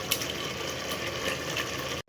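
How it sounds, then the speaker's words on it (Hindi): About half a glass of water is poured into a kadhai (pot) while making pethe (ash gourd) and sooji halwa, a steady rushing splash for about two seconds that stops abruptly. "आधा गिलास डाल देंगे पानी का।"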